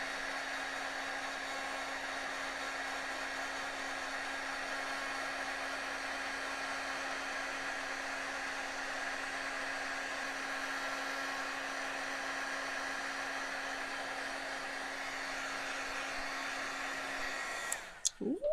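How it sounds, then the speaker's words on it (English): A heat tool melts embossing powder on a card, giving a continuous, steady, close blowing hum like a hair dryer that runs unchanged for the whole stretch and ends with a brief clatter. "Let's warm up our heat tool and melt the powder."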